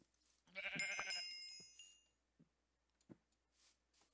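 A sheep bleats in Minecraft: one wavering bleat rises to a clear peak and fades, then several soft clicks and taps follow in otherwise quiet game audio, with no talking.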